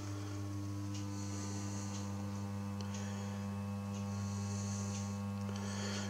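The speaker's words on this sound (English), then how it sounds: "ferroresonant transformers. They're noisy. There's only 50 volts going in, and listen to the hum." A ferroresonant transformer fed 50 volts drones with a steady, loud mains-frequency hum and buzzy overtones, unchanging and close, with faint ticking clicks now and then.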